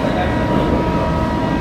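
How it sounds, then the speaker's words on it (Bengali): An air-conditioned local train pulls out of Ranaghat Junction with a steady, close, loud rumble of wheels and carriage noise and no pauses. "আমাদের ট্রেন ছেড়ে দিচ্ছে রানাঘাট জাংশন।"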